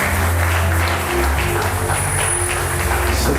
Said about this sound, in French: Est-ce qu'on peut l'honorer avec nos acclamations,